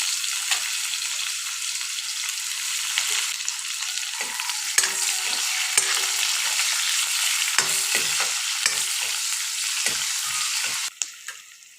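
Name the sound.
green chilies and onion frying in oil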